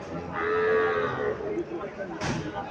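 A Sahiwal heifer calf moos once with a long drawn-out call at a livestock market, fairly close, against a busy background murmur of people.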